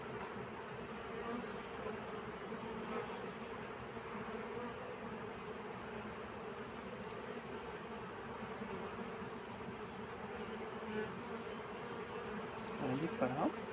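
Honey bees in an open hive during an inspection hum in a faint, constant drone, with occasional nearer buzzes and light handling noise toward the end.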